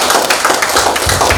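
At an assessment opening ceremony at a vocational high school, the audience breaks into clapping: close, loud, dense hand claps with a few thuds, over a short burst.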